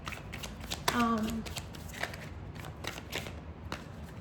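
Tarot cards riffle and slap in a quick shuffle near the start, followed by soft flicks and taps as cards are drawn, with a voice speaking quietly over part of it.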